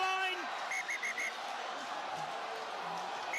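A referee's whistle at a women's rugby match, England against France, sounds as a few short, hesitant pips over loud stadium crowd noise.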